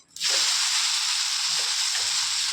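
A vegetable onion uthappam, just flipped in the pan, breaks into a loud, steady sizzle after a brief quiet instant and keeps hissing evenly throughout, close up and alone.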